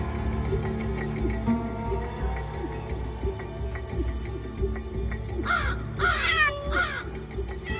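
Three harsh crow caws ring out in quick succession near the end, over a low outdoor rumble and faint background noise.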